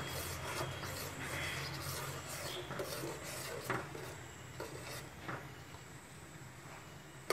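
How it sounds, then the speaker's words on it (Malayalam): Turmeric milk stirred in a pot, a quiet close scraping and rubbing of a spoon against the pot with soft intermittent clinks and taps. "ഇങ്ങനെ മിക്സ് ചെയ്യുക നന്നായിട്ട്."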